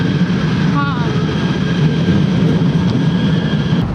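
Steady rumbling of a train in motion in Kuala Lumpur, with a brief squeal of wheels on rails and low mechanical drone throughout.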